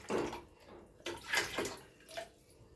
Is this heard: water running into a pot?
yes